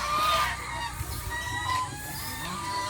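Geese honking among farm poultry and livestock, a cluster of loud nasal calls near the start followed by scattered softer honks and clucks against a noisy farmyard background.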